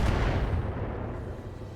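Autocannon fire in the RogueTech mech combat game, a heavy booming burst that opens loudly and then rolls off into a long rumbling decay.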